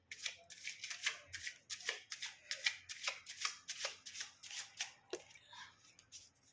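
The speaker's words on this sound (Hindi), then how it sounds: "कुछ कार्ड ले लेते हैं दोनों लोगों के लिए।" Cards drawn from a deck with a quick run of rhythmic papery flicks and slides, close and clear, repeating about twice a second with no talking over them.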